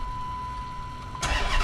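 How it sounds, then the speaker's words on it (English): A Dodge Charger or Magnum engine cranks and fires up, a low steady hum with a faint tone giving way at once to a loud, broadband roar as the engine catches. "if we actually start up the car"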